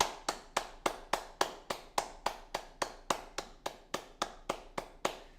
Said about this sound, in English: I'm just going to keep clapping until you guys post some clapping emojis